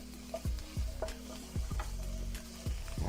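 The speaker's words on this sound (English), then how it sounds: "our vegetables are now cooking in the roux" Vegetables cook in a dark roux for New Orleans shrimp gumbo, giving a steady close sizzle broken by about eight heavy stirring strokes, each a low thump followed by a scrape.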